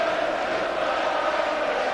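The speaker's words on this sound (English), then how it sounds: "the applause around the ground is not for him" Football crowd at a Kilmarnock v Rangers match applauding the Rangers substitutes, a steady, dense roar of clapping and cheering filling the stadium with no breaks.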